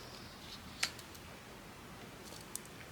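Scissors snipping through paper make a couple of faint, sharp clicks, one clearer cut and a softer one later, over quiet room noise with no talk.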